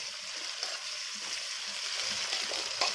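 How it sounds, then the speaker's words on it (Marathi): Onions frying in a pan for sambhar give a steady, close sizzle and crackle that holds at an even level throughout, with a few light utensil clicks and no talk. "हे बघा आता कांदे फ्राय झाले तर टोमॅटो घालूया"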